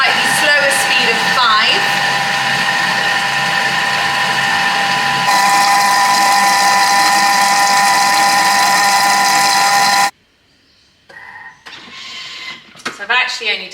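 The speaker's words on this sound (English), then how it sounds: "So turning the dial now to speed 5. So initially we were grinding down the peanuts." Thermomix TM6 grinding peanuts, a loud, close, steady motor whir with a rattling start that shifts to a higher tone partway through at speed 5, then cuts off to quiet talk at the end.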